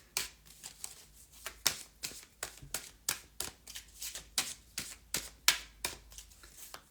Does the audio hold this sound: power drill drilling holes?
no